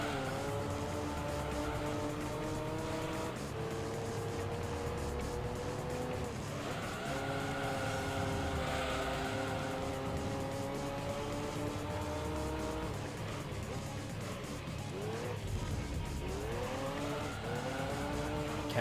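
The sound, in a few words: race cars driving in Gran Turismo 3 video game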